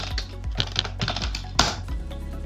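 Rapid keystrokes on a computer keyboard as a command is entered in a Kali Linux terminal, a close, steady run of clicks with one sharper key press near the end and no talk.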